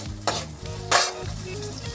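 Shallots and green chilies fry in hot oil, a close, continuous sizzle broken by two brief louder bursts as they are stirred in the pan.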